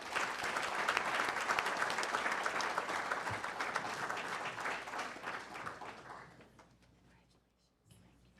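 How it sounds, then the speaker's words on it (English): At a board of education meeting, the audience applauds a student: a full, steady round of clapping from the room that tapers off into quiet murmurs and faint rustling. "please give a round of applause here to Paulina Tinajero."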